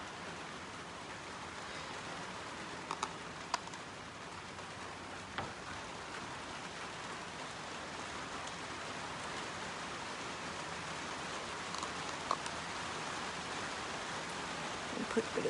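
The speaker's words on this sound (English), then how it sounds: "Hear all the rain behind me?" Steady rain falls outside in Berlin, a dense even hiss with scattered louder drop ticks throughout, fairly close and uninterrupted, with no voices over it.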